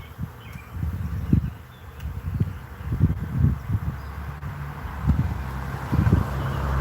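Low droning buzz of a honeybee swarm fanning hard while being captured outdoors, a steady close hum with pulsing surges and light wind rustle.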